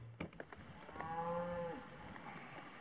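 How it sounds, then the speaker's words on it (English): A cow moos near a river during an evening fishing session, one clear drawn-out low moo at mid distance over faint outdoor background, preceded by a few soft knocks. "Silly cow."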